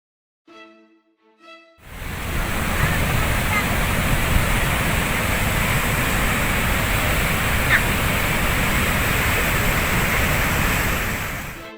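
Floodwater from a flash flood of mud and debris roars through Jayapura, Papua after weeks of heavy rain, a loud, steady, dense rush that starts abruptly after a brief faint sound and continues unbroken.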